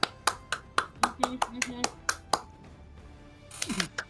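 Individual hand claps, a steady run of sharp single claps roughly every quarter second, close and clear, with a voice talking briefly among them.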